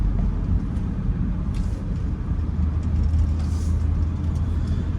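Car driving down Sheffield Avenue, a residential city street in Philadelphia's Mayfair, a steady low engine and road rumble from inside the vehicle with faint passing traffic sounds.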